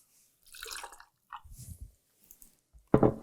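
Pear vodka is poured into a cocktail shaker in short splashing bursts, faint liquid trickles and drips with gaps between, ending with a louder clink or splash.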